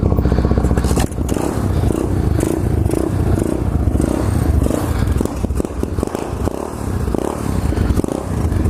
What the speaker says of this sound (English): Warm the pit bike up.